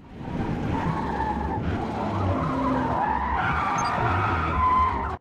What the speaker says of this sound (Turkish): Düz giderken el freni sıktım.